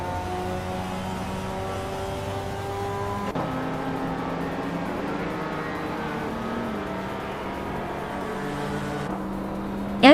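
Race car engines droning in a racing video game, including a 1993 BMW, with steady layered engine hums that shift pitch as cars accelerate and shift, ending with a brief loud rise.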